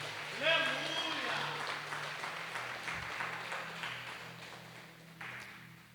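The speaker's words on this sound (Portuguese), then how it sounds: "A igreja fica em pé, por favor, e aplaude ao Senhor misturado com glória." A church congregation applauds in a sustained wash of clapping while a voice speaks over it in Portuguese and a low tone hums underneath.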